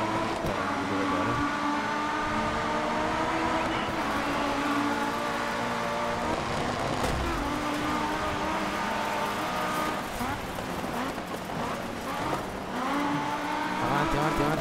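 An Audi rally car in Dirt 3 revs hard and accelerates, its engine whining steadily up through the gears, loud and close, with a brief tire screech midway.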